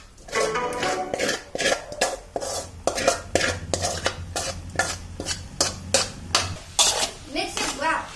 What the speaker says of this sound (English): In this, we are adding paneer and mixing.